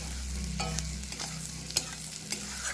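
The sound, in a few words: stir-frying prawns with potato and chopped garlic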